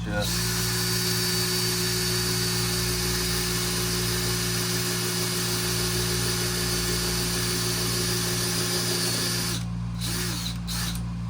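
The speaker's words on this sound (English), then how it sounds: "This being aluminum, it's not going to drill difficultly." A power drill whines steadily and loudly at close range while drilling through aluminum, its motor tone holding constant before cutting off near the end.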